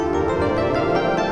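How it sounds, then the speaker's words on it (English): A Hydra Synth piano pad preset, HS348, sustaining a dense, even chord with a soft airy layer behind it, brief and steady with no clear attacks. "Hydra Synth piano pad number 48, HS348, which sounds like"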